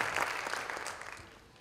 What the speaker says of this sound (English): Let's give these outstanding officials a great round of applause